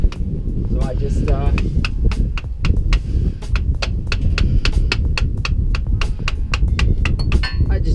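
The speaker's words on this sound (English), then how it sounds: "jam a screwdriver or something through there, and then I should be able to twist it off." Sharp metallic blows land in a quick series as a screwdriver is hammered through an old oil filter on a Volvo, loud and close over a low rumbling background.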